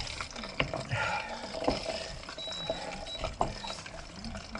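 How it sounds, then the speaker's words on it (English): A spoon stirs Worcestershire sauce in a small container, giving soft, quiet liquid clinks and sloshes at close range in brief irregular strokes. "And all you need is a little spoon, give that a whisk."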